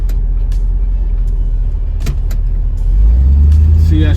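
A Chevy S10 pickup with a modified carburetor drops a gear and accelerates into a right turn. Its loud engine drone swells into a deeper, stronger roar partway through.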